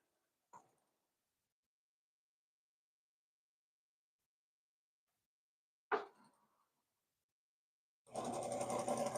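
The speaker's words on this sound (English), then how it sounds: "Now it's going to sew the stitch that I was supposed to trim along." Embroidery machine sewing an extra securing stitch on an in-the-hoop appliqué with rayon-blend thread: two brief isolated clicks, then a steady rapid whirring hum that starts near the end and runs on close by.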